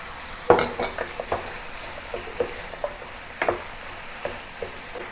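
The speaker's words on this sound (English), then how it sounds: "Continue to stir fry for a little while until the vegetable is no longer taste raw and it is done" Mixed vegetables including bell peppers and onion stir-fried in a pan, quiet background sizzle broken by a series of sharp utensil clinks and scrapes against the pan, no talking.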